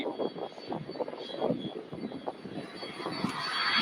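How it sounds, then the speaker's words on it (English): Boeing 767 airliner at Louisville airport, its engines a broad steady roar that builds gradually toward the end, fairly loud and continuous with no talk over it. "Boeing 767. Going to Houston, Texas."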